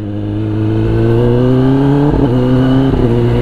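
Kawasaki ZX10R engine revving up close, a loud rising mechanical whine with two brief dips where the throttle blips before climbing again.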